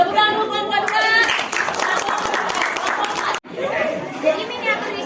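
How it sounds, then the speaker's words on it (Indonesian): Classmates in a classroom burst into steady applause and clapping, mixed with lively chatter and voices throughout, before a brief pause and a quieter murmur. "Tepuk tangan dulu kawan-kawan"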